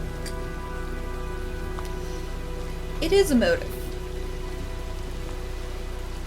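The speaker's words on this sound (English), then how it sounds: "Well, looks like a storm's coming." Steady rain falls in the video game Heavy Rain, a continuous wash of downpour throughout, with a short voice breaking in midway.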